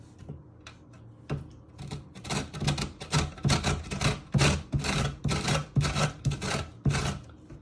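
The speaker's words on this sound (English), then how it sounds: "you're going to grate all the orange zest using your grater" Orange zest rasped on a hand grater with sharp blades for mince pies, a close, steady series of rhythmic scraping strokes after a few light taps at the start.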